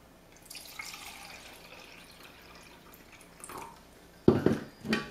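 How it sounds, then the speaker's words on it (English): Water tipped from a cup into a Pampers Dry Max diaper, starting as a faint trickle and ending in a couple of louder splashing gushes. "let's pour another 1 cup into the Dry Max"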